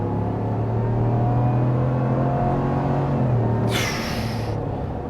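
Engine of a 2024 Ram 1500 Rebel pickup truck pulling hard under acceleration, a steady near rumble that holds through the run, with a brief higher-pitched rushing burst toward the end; no talking.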